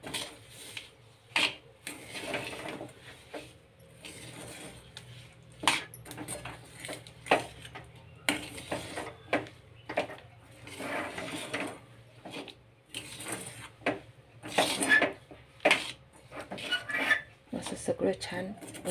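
Sesame seeds are stirred into a thick mixture in a pan for til vadi or chikki, with a spoon clinking and scraping against the metal in close, irregular bursts throughout.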